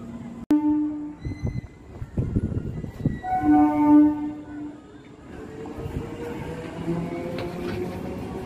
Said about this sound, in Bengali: এই দেখো ট্রেন ঢুকছে